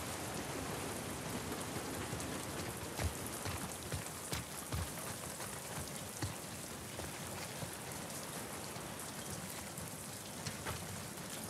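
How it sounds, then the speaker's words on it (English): Persistent rain in The Last of Us Part 2 video game, an unbroken hiss of drops pattering on surfaces with scattered sharper drips and splats, moderately quiet and free of voices. "Get out of the rain."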